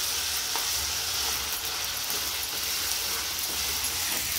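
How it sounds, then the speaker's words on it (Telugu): Cardamom, cloves, fenugreek seeds and curry leaves dry roasting in a pan give a steady, close sizzle with faint crackles and stirring scrapes, running continuously without any voices. "ఇంకా యాలకులు, లవంగాలు, మెంతులు ఇవన్నీ కొంచెం కొంచెం వేసుకుని డ్రై రోస్ట్ చేసుకుందాం."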